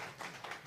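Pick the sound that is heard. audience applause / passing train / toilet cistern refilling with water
audience applause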